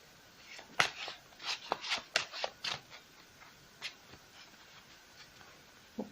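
Tarot cards being shuffled by hand, a series of quick crisp riffling and flicking bursts up close, some closely spaced, with quieter gaps between them.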